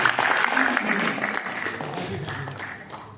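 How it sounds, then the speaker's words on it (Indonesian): An audience at a family forum discussion applauds, a thick, continuous patter of many hands that gradually fades over three seconds, with voices in the room. "Tepuk tangan buat Bu Santi."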